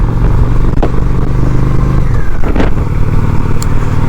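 Honda Shadow 750 motorcycle riding along an open road, a steady loud engine drone with wind rush throughout, with a brief surge of rumble and clatter partway through.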